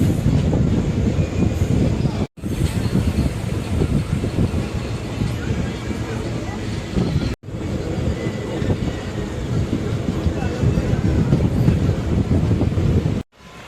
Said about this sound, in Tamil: இங்கேருந்து டிபார்ட் ஆகி போயிட்டுருக்கோம்